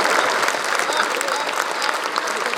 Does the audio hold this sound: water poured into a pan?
no